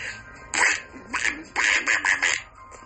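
A man performing a Donald Duck voice impersonation, a voice imitating a cartoon duck, gives several bursts of raspy, nasal quacking squawks in a quick irregular rhythm, close and fairly loud.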